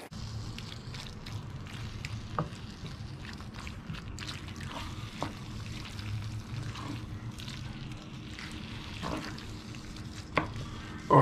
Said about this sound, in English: I'm just going to let that simmer away now until that water has actually evaporated